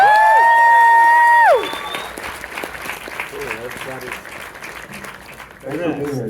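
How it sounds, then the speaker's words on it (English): After a sustained ringing tone, an audience applauds at a Nosferatu film Q&A, giving a dense patter of clapping with voices speaking over it. "one more round of applause, ladies and gentlemen"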